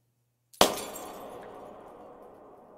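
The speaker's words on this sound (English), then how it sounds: "Why was there a light bulb shattering in my ears?" A light bulb shatters in the low-poly indie horror game Crawl: a single sudden, sharp glass break after brief silence, followed by a long tinkling, decaying wash of fragments, close and fairly loud.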